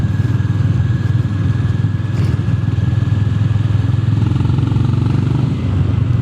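A Honda GB 350 S single-cylinder motorcycle thrums steadily while being ridden, its engine and exhaust giving a continuous low, loud rumble with no break.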